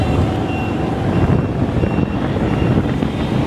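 Wind buffets the microphone while riding pillion on a Grab motorbike taxi in hot Ho Chi Minh City, a loud, continuous low roar with rumbling gusts throughout.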